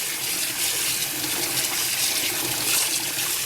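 Cold tap water gushes steadily from a faucet over freshly cooked thick asparagus in a kitchen, a continuous, fairly loud broadband rush with no talk over it.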